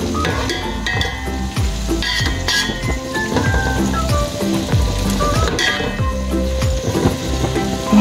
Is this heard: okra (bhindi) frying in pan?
yes